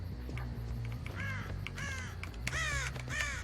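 Crows caw repeatedly in the horror video game Dead by Daylight, several harsh calls in irregular bursts over a low, steady droning game soundtrack.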